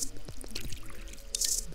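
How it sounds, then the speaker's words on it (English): Water pours from a bottle onto plants in the video game Drug Dealer Simulator, a short splashing trickle with a few drips, fairly faint, with a brighter burst of pouring near the end. "Yeah, we have to water them."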